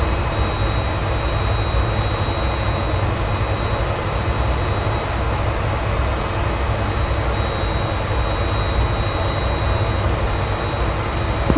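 Steady, loud jet engine roar from an F/A-18 fighter in the Infinite Flight simulator at Portland (KPDX), a continuous broadband rumble with a faint high whine, unbroken and without speech for the whole stretch.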